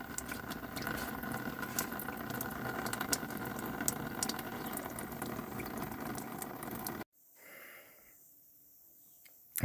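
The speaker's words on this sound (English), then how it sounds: "So that'll just drain the filters." Fuel draining from Holden Colorado fuel filters into a bucket, a continuous trickling, gurgling pour for about seven seconds that stops abruptly, leaving quiet faint dripping.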